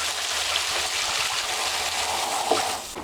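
Water splashes and trickles steadily inside a plastic barrel as it is rinsed out, a continuous broadband rush with a small knock near the end.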